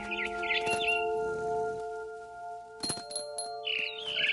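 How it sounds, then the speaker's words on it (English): A barn swallow chirping in the video game What Remains of Edith Finch, with quick high twittering calls in brief bursts over a sustained tonal music bed. "Then I heard chirping outside my window. It was a barn swallow going back to her nest."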